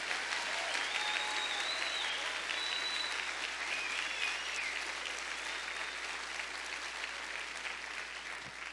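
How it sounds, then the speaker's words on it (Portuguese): A congregation applauds during a church service, steady dense clapping sustained at even strength throughout, with faint scattered voices mixed into the crowd. "Vamos, aplauda mesmo a Ele."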